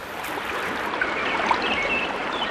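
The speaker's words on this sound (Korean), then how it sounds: "새소리 물소리가 들리는 곳으로 가보니 작은 샘이 하나 있었는데" Water trickles steadily from a small spring in a shaded forest, a close, continuous bubbling wash with faint bird chirps scattered through it.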